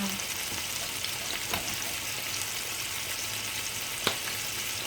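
Pork frying in oil in a home kitchen, a steady dense sizzle and crackle throughout with a few sharper pops, close and continuous with no talk.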